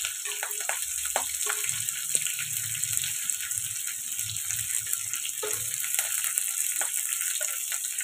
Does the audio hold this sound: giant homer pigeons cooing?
no